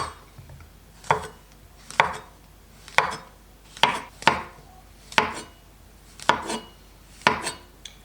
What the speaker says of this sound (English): First, chestnut mushrooms. I'm gonna slice these kind of thinly.